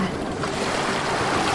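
Constant rush of ocean surf with a broad wash of breaking water and a bit of wind, steady and fairly loud with no voices.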